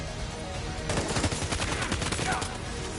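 Rapid bursts of gunfire in Death Stranding 2: On The Beach, a dense rattle of close, loud shots filling most of the short stretch, with faint voices underneath.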